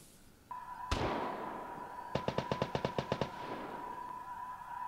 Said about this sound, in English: gunshots to my left, footsteps to my right